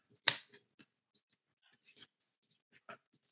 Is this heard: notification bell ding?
no